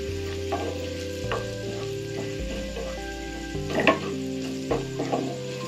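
Chili powder being sautéed in garlic butter for spicy sweet corn, a steady close frying sizzle with scraping stir strokes recurring every second or so, no voices.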